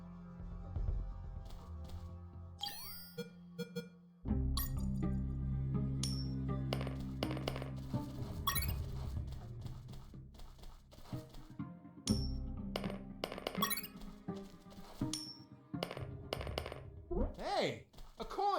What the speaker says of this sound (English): I quickly found out that guards love picking up free coins off the ground.